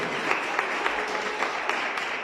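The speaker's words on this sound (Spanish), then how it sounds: "denle un fuerte aplauso al Cristo de la gloria" Congregation applauding during a Spanish-language church sermon: steady, dense clapping from a crowd that holds at an even level for the whole stretch, with no voice rising above it.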